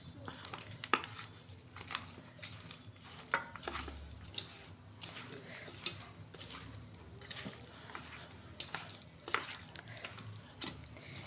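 Mutton being rubbed together with mustard oil by hand in a metal pot, giving soft, quiet squelching and scraping with occasional light clinks of the pot, steady and close throughout.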